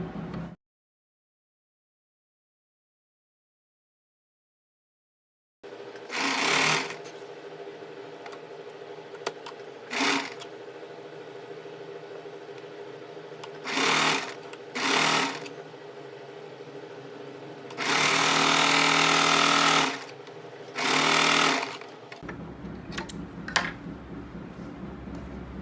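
A sewing machine stitches palazzo fabric panels in several short, close motor runs of a second or two each, separated by quiet pauses over a low steady hum.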